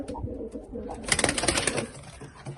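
Pigeons coo in a loft of red racing birds, soft repeated coos mixed with rustling and a brief burst of wing flapping midway, close and fairly loud with no talking.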